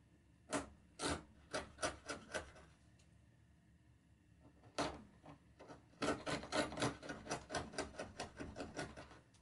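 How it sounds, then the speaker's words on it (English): Hand saw cutting a wooden tongue on the end of a workbench tool-well floor, bursts of quick rasping strokes in three runs separated by short pauses, close and fairly quiet. "Here I'm cutting the tongue at the end of the tool well floor that will go into the groove."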